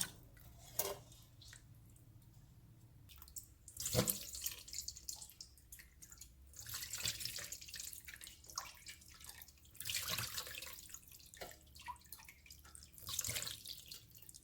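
Boiled and cooled Thai fermented fish sauce (pla ra) is strained in a kitchen, giving soft trickles and drips of liquid with occasional light clinks of utensils, faint and close with no talking.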